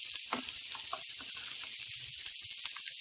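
Grated carrot fries in melted butter for carrot halwa, a steady close sizzle and hiss running throughout with faint stirring scrapes, no voices.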